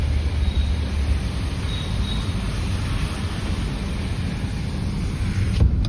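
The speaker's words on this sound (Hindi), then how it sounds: "शीशे खोल के दिखा, तेज बारिश हो रही है।" Heavy monsoon rain in Delhi heard through an open car window, a broad continuous hiss and rush with low wind-like rumble, steady and loud.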